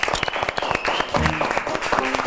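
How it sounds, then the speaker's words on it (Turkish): Audience applause on a Turkish fashion talk show, a dense, steady clapping from a crowd that runs loud and continuous throughout, with no voices over it. "Öyleyse Furkan demek alkışlarla uğurluyorum."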